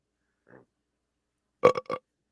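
A person burps twice in quick succession, loud and close, after a faint short earlier sound, with silence around it.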